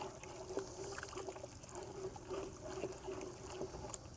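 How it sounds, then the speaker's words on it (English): Calcium hypochlorite pool chemical fizzing as it is stirred into a bucket of water: a faint, steady hiss with soft watery swishes and light taps, no voices. "You might hear some sizzling and all that kind of stuff. That's normal with the Cal Hypo reacting with the water."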